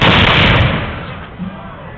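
A late matchlock musket fires on command at an outdoor demonstration, one loud close blast that decays into a long rolling echo, with a faint low thud near the end.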